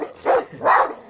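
A person imitates a dog, giving two loud, close barks in quick succession, each short and gruff, with a brief pause between them in a radio studio setting.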